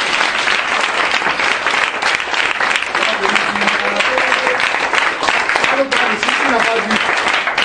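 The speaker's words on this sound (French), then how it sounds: "Est-ce qu'on peut acclamer Jésus?" Church congregation applauding and cheering for Jesus, a dense, steady roar of clapping with voices calling out and faint tonal singing beneath, loud and sustained throughout.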